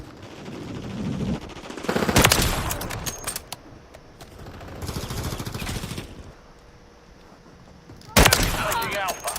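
Rapid automatic gunfire crackles through a video game battle in loud, clustered bursts separated by short lulls. The final burst erupts sharply near the end.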